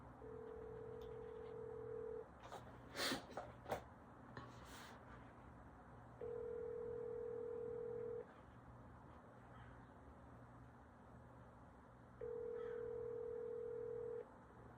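Outgoing call ringback on a telephone: three steady, evenly spaced tone bursts about two seconds long, separated by quiet gaps, faint over a low background hum from inside a car, with a few brief clicks early on.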